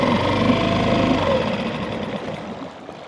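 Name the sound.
small boat motor running then shut off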